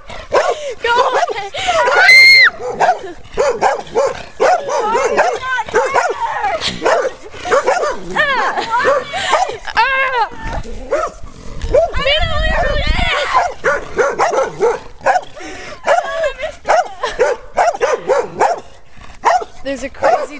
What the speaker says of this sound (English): There's a crazy dog right there.